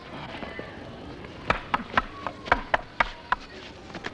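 Wooden quarterstaves clash in a staged fight at a medieval-style show in Robin Hood country: a rapid run of sharp, hollow clacks, roughly eight strikes in about two seconds, close and distinct over a low murmur of ambient noise.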